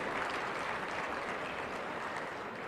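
University students at Jaipur University applaud at a campus address, a dense, steady wash of clapping from a large crowd, fairly soft and continuous with no speech on top.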